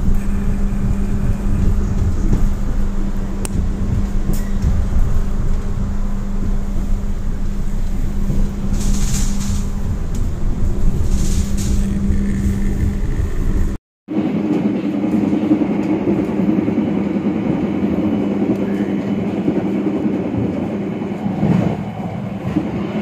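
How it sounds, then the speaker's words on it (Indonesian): The Kutojaya Utara economy passenger train rumbles and clatters loudly along the tracks as it pulls into Kebumen station, Indonesia, steady mechanical noise with a brief cut partway, then continued rolling and squeals. "pukul 20:03 kereta api Kuto Jaya Utara tiba di stasiun Kebumen"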